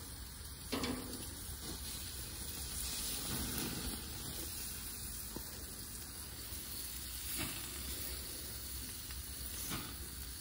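Duck sizzles on a grill during a flare-up, giving a steady, fairly faint hiss and crackle with occasional louder pops and no talking.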